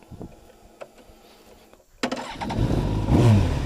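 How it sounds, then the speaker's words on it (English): A Kawasaki ZX-10R motorcycle cranks and fires up, going from quiet clicks and a short starter whir to a loud, close idle rumble with a slight rev. "you gotta shift into first, start your bike"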